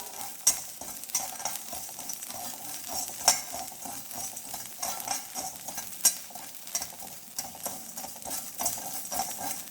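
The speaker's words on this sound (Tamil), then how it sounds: "அதனால இதை வறுத்துக்கலாங்க" Sambar podi ingredients dry-roasting in a pan, a continuous soft sizzle broken by frequent scraping and stirring strokes with occasional sharper clinks, close and steady throughout without speech.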